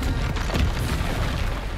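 Bombarda spell explosions in Hogwarts Legacy, a dense continuous rumble of booming blasts with low-end thumps throughout, loud and close with no clear gaps between hits.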